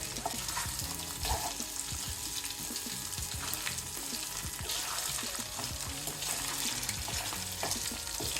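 Boiled quail eggs fry steadily in a pan, a dense close sizzle with scattered clicks and scrapes as they are stirred now and then, with no voices.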